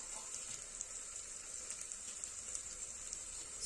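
Spices such as turmeric, chili powder and black masala frying in oil in a pan, a quiet, even crackling sizzle with light pops, continuous and close.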